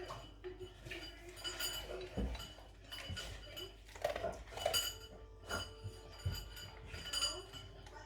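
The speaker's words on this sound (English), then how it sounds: "going to just cut them up and put them in that little pan there" Cooked carrots are cut up and dropped into a small metal pan, with close clinks and knocks of a knife and pan scattered irregularly throughout; speech is faintly present.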